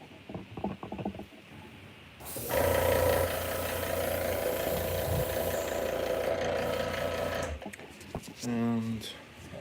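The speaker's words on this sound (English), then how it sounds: "let's just turn on the compressor" An air compressor for airbrush painting switches on with a sudden loud motor hum and rattle that runs steadily for several seconds before cutting off, with talking before and after.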